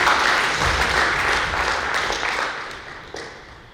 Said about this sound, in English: So I really want to clap again for our development and improvement.